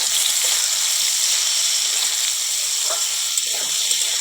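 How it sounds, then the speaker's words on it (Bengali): Eggplant pieces and green chillies fry in a pan with a steady, close sizzling hiss that runs unbroken throughout, with a few faint pops and no voice. "এবারে বেগুনটা একটু লাল করে ভেজে নেব"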